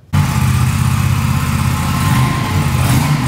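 An Aprilia RS 457 motorcycle runs its exhaust at a steady, loud idle, a low, throbbing engine note that holds evenly for a few seconds with no talking.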